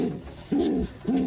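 Racing pigeons coo in a loft, two low, rolling coos close by, each swelling and fading, with a short pause between them and no talking.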